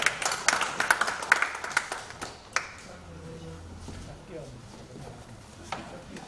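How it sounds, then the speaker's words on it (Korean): An audience at a church mission policy forum claps briefly to welcome two pastors to the stage, a quick burst of scattered, fairly close claps that fades after a couple of seconds into quiet room noise. "자, 우리 박수로 환영하겠습니다."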